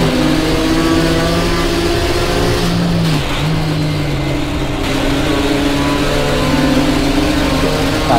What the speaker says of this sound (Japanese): なんかずっとガラガラガラガラ音がしてる。